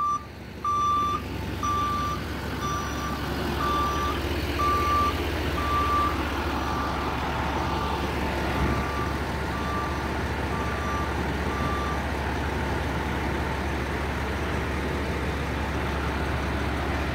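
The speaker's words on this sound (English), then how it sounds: "A nice fire truck there, huh?" A Bullhead City, Arizona fire department truck backs up, its reversing alarm beeping in a steady, evenly spaced series over a low idling engine rumble; the beeps fade out partway through while the engine keeps droning.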